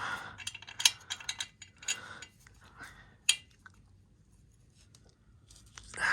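Metal clanks, ratcheting and tool taps ring out as a Giannelli exhaust pipe is bolted onto a Derbi motorcycle, a close series of sharp clicks and knocks clustered in the first seconds, then quieter fiddling.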